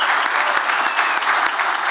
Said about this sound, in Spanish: pido un aplauso ensordecedor para estos 3 hombres